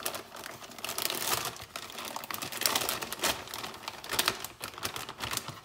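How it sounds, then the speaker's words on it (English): Romaine lettuce leaves pushed into a plastic zip bag, giving bursts of close, crisp crinkling and rustling that rise and fall irregularly, with no talking. "Then I put my romaine in a plastic bag,"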